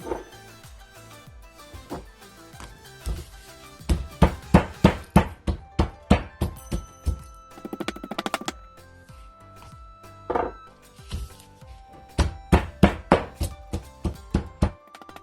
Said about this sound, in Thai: แล้วมาต่อตำพริกกับกระเทียม